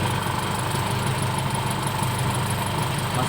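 A car engine idling with the radiator cooling fan running, a steady, continuous mechanical hum and whir with a faint high whine, close and fairly loud, no voices.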